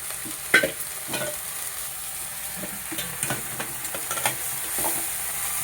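Vegetables frying in a pan on a low gas flame, a soft continuous sizzle with scattered spatula scrapes and taps at close range, no talking.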